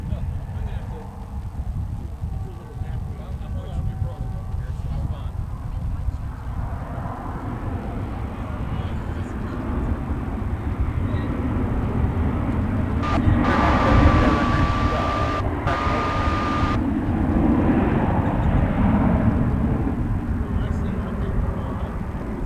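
An American Airlines jet takes off from runway 17 right at DFW, a broad rumbling roar that swells and stays loud for many seconds, heard from a distance.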